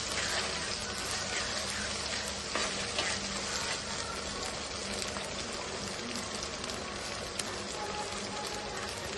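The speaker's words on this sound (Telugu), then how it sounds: "ఇప్పుడు మనం అల్లం వెల్లుల్లి పేస్ట్ కూడా వేగింది." Ginger garlic paste fries in hot oil for a fish curry, giving a dense, steady hiss and sizzle like heavy rain that holds at an even level throughout, with occasional faint stirring.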